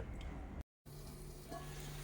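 A pot of curry with tamarind water bubbling and sizzling steadily at close range, with a brief total dropout partway through and no talking.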